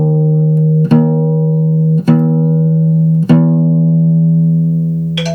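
Guitar string plucked three times during tuning, each attack ringing out as a sustained steady tone, then a softer fourth touch at the end; loud, close and alone.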